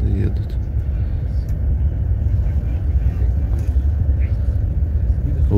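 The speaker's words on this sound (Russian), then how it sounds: "Да, машины едут." Steady low rumble of cars driving on the Autobahn near Berlin, heard from nearby as a continuous, even traffic drone with faint voices underneath.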